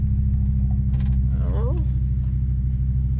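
A Ford F-150 fitted with a 3V V10 engine runs with a loud, steady low rumble as it starts to pull out, a brief creaking squeal rising over the engine drone.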